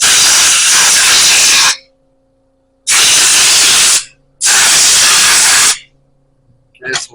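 Loud, close blasts of compressed air hiss across a Walvoil mono block spool valve fitting in three long bursts separated by quiet gaps, with a faint hum underneath.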